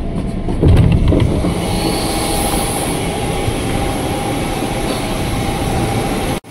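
A KRL commuter train stops at Depok station, giving a loud, continuous rumble and hum close by, with a brief clattering surge near the start and a steady roar until an abrupt end.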